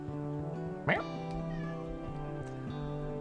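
A cat meows once, briefly and fairly close, over a steady humming background in the Forest Ranger Simulator video game.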